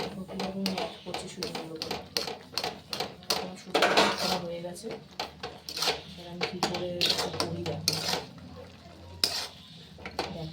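Semolina upma is stirred in a pan with a rapid run of scraping, clinking strokes of a utensil against metal, irregular and close, continuing steadily with no voice.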